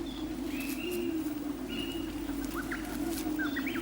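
Birds call with short, faint chirps and thin whistles scattered over a steady low hum, which stays constant throughout.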